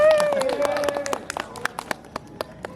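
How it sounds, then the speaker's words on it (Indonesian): Several people clap in short scattered bursts during an informal talk session, following a brief sustained tone at the start; sparse, fairly close claps trail off toward the end. "Tepuk tangan. Yeay."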